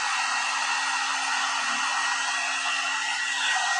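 A one-step hot air brush straightens Botox-treated hair with a steady, loud whooshing blower hum and a faint motor whine, continuous and close for several seconds with no talk.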